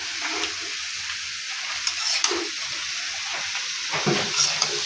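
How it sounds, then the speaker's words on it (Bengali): Potatoes fry in a pan for a vegetarian dish, giving a steady close sizzle with faint scraping and stirring clicks scattered throughout, no voices. "আলুটাকে একদম ভালো করে ভাজবো"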